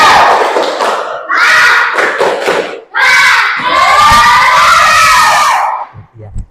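Schoolchildren in a classroom performing the 'tepuk semangat' clapping chant, a loud group of voices shouting rhythmic phrases in two bursts, with claps and thuds mixed in.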